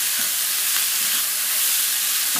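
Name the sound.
stirring butternut squash and apple sausage in a pan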